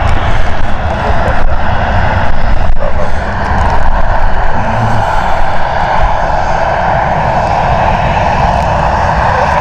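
A Ryanair airliner's engines roar loud and close at Stansted Airport, a sustained heavy rumble with a broad whine that swells and then settles throughout.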